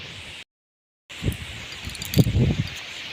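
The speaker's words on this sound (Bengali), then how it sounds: "ওই দেখো পাট গাছগুলো কিভাবে হাওয়ায় দোল খাচ্ছে" Strong gusting wind from Cyclone Remal sweeping through a village field of swaying jute plants, a steady rushing hiss with leafy rustling that swells and thickens toward the end after a brief dropout.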